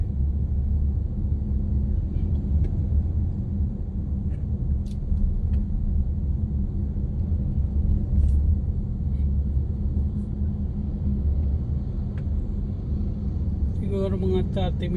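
Low, continuous rumble of mixed city road traffic with tricycles, motorbikes, cars and vans, some engines droning close by, a few faint clicks scattered through and brief higher chatter near the end.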